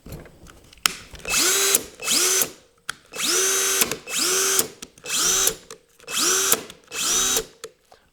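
A Harbor Freight Hercules cordless drill revving in a series of about seven short bursts, each whine rising in pitch and holding before cutting off, close and loud with brief pauses between runs.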